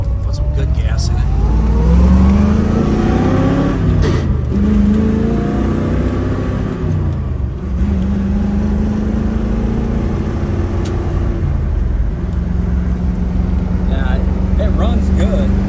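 A 1969 Ford Mustang Mach 1 Fastback with a 351 V8 and 4-speed, running on old fuel, idles and revs up and down several times, loud and close, with someone talking over it.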